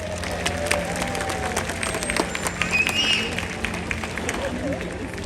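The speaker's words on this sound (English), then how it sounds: "give them a round of applause" Audience applause at a SeaWorld San Diego orca show, a spread-out crowd clapping with scattered cheers and background chatter, moderately loud and continuous throughout.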